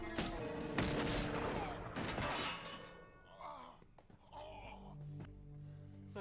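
Gunfire from a Firefly episode playing on a screen: a sharp burst of shots and loud bangs up front, then scuffling and clattering with brief voices under it.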